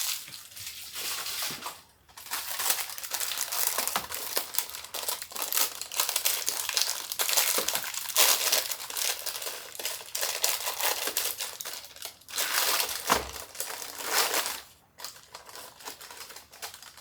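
Graham crackers are handled and slid into a plastic bag, giving continuous close crinkling and rustling of plastic with brief pauses and scattered crisp crunches, with no voices.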